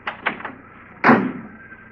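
A few light taps and rattles, then one solid thud of a car door shutting nearby, fading into quiet background hum.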